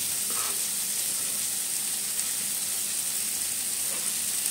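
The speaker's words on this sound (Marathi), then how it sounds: "बघूया आता अंडा वगैरे जरा फ्राय होते" Eggs with chopped onion, green chilli and tomato frying for egg bhurji, giving a continuous, even hiss of oil throughout, moderately close and uninterrupted by talk.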